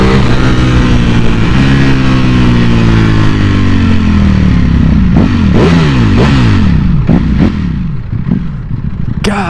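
A Ducati Panigale V4S motorcycle accelerates hard in race mode, loud and close, its engine note climbing again and again through a quick run of gear shifts.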